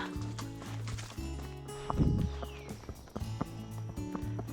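Horse hooves clip-clopping at a steady walking pace, fairly close, at Stratford Hall, with some background noise and a brief louder thump midway.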